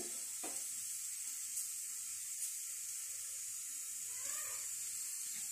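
Mustard oil heats in a pan for fish curry, giving a quiet, continuous hiss and sizzle with a few faint crackles.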